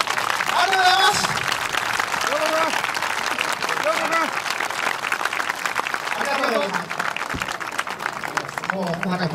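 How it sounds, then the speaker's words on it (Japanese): A room full of people clapping steadily, with voices and chatter mixed in around the applause. "嫁さんに一度拍手していただいてもいいですか"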